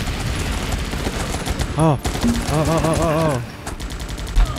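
Gunfire in the video game Guns Up! rattles in dense bursts throughout, with someone talking and exclaiming over the shooting.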